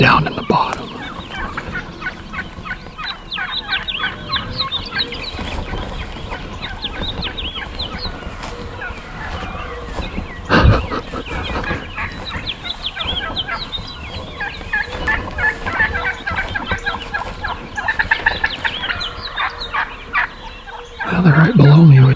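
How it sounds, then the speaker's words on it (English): A wild turkey gobbler gobbles repeatedly in a series of rapid, rattling calls from some distance in the woods on public land, with other fowl-like clucks around it. "The gobbler sounds like he's down in the bottom."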